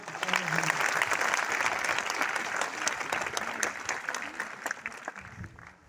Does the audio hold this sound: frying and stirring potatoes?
no